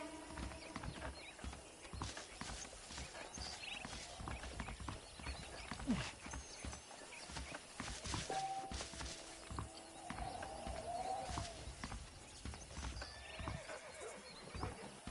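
A horse in the video game Red Dead Redemption, steady clip-clop hoofbeats trotting across ground with a brief neigh, moderately quiet under game ambience.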